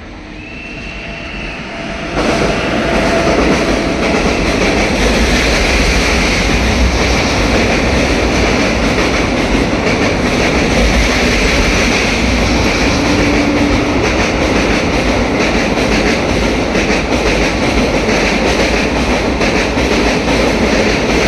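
Special train 06181 with LHB coaches departs Kurnool City railway station. After two quieter seconds, a loud, steady rumble of wheels and coaches rolls in close by and holds unbroken to the end.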